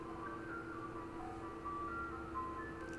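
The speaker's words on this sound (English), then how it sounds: "Do you guys hear the ice cream truck outside?" An ice cream truck plays its jingle outdoors: a steady, tinkling music-box melody drifting in from outside at moderate level, continuous throughout with no talking.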